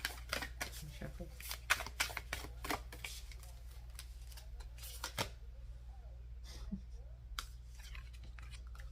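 Tarot cards being shuffled close up, a quiet run of irregular riffling flicks and soft slaps with short pauses, with someone speaking softly.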